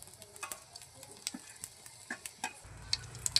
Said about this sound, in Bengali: তেল গরম হয়ে গেছে, দিয়ে দেবো জিরা ফোড়ন